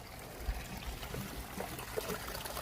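Water trickles quietly from a bed of pea stone beneath an inground swimming pool, a soft, steady outdoor dribble running throughout with faint background noise.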